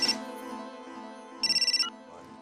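A mobile phone ringtone plays close and loud, a sustained electronic melody that swells into a fast pulsing burst of bright tones before cutting off, with no speech.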